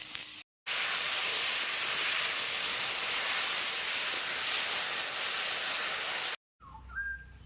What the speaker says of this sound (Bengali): কয়েকটা সর্ষে ফোড়ন দেব